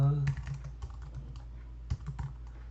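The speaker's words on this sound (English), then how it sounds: "So I will type" Typing on a computer keyboard while configuring an F5 LTM network device, a short run of separate key clicks, close and moderately loud, with a brief hum at the start.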